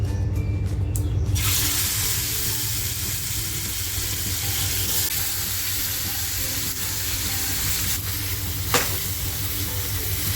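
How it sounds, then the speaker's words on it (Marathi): Prawn thecha with raw onion and asafoetida frying in hot oil in a pan, giving a steady, close sizzle throughout with a few brief clinks and stirring scrapes. "तर आपला कांदा आहे ना तो कच्चा आहे त्याच्यामुळे आपल्याला हे असं छान फ्राय करून द्यायचंय"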